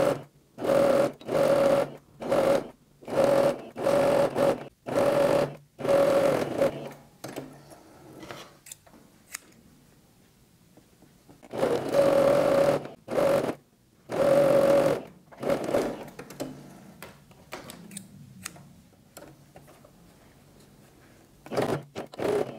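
Sewing machine stitching around a fabric toilet paper roll holder, running in short rhythmic bursts of rapid whirring that stop and restart in two clusters with quiet gaps between, close and clear.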